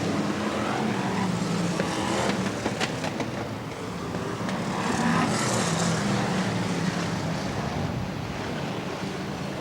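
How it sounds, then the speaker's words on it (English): BriSCA Formula 1 stock cars race a heat at Swaffham in 1994, producing a dense, continuous roar of engines that swells and fades slightly as the pack circulates, with wind-like rush over the whole scene. "All the cars still circulating at a pretty tremendous and dramatic pace"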